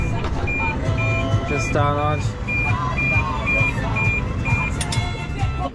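Repeated evenly spaced electronic warning beeps from a New Holland farm vehicle signalling an error, steady and clear over a low engine rumble, with someone speaking briefly.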